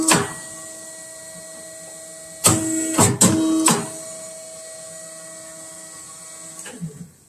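A hydraulic round-corner cutting machine trims photo album pages, giving a few short loud bursts of cutting and clunking over a steady mechanical hum, then a softer thud near the end.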